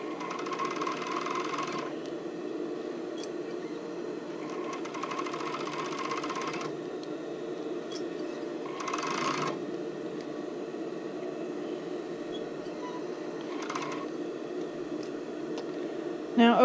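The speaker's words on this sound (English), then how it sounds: "so we're just going to sew around the waistband" A sewing machine stitching around the waistband of a sports bra, its even, close motor whir running steadily throughout, broken by short bursts of faster, brighter stitching and a brief clunk at the end.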